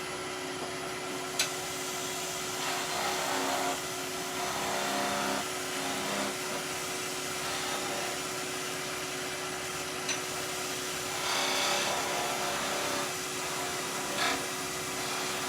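A turned wooden Christmas tree is parted off on a wood lathe: a steady motor whirr with a broad, hissing cutting noise and a few sharp ticks, fairly loud and continuous with no talk.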